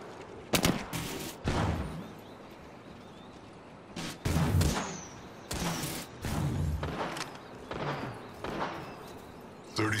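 Gunfire in the shooter game Apex Legends cracks in several sharp bursts and single shots, some close and loud, spread irregularly across the stretch.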